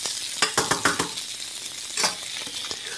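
Vegetarian meat browning in a pan for sweet and sour dish, a steady bright sizzle with several quick stirring scrapes and clinks near the start and another burst of stirring later, close and clear with no talking.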